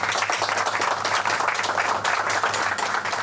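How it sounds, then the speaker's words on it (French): An audience claps together in sustained, dense applause for a cooking team, a steady even patter of many hands at moderate loudness with no break. "Et on vous applaudit."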